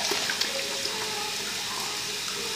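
Steady running tap water, fairly close, flows continuously during face washing at a sink.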